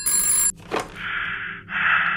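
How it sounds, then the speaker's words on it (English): A telephone in a VR horror game rings loudly, its bright trilling bursts cut by a short gap and a thud, then two more long ringing stretches. "the fucking phone's ringing"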